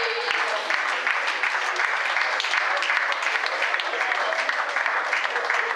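Dense, steady applause from an audience at a school open day in Brussels, continuous clapping throughout with people talking and calling out over it.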